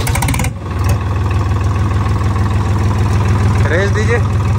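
Swaraj 963 FE tractor engine running with a broken silencer, a loud, steady low throb that chugs continuously throughout, while a voice talks briefly over it.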